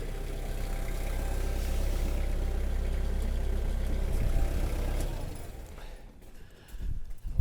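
Tractor engine idling steadily at close range with a low, even drone, then cutting off near the end, leaving a brief quiet stretch with small handling noises.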